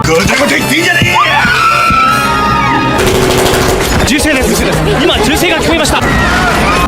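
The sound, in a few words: gunshot inside an airplane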